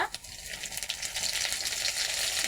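Steady bright sizzle of onions frying in hot oil in a pan on a clay stove as whole spices go in, continuous and close, without talk.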